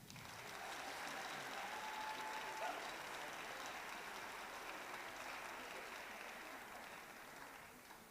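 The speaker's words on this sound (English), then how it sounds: "Have another round of applause." Sustained audience applause fills a band concert hall, a steady dense wash of clapping that holds evenly for several seconds and tapers slightly at the end.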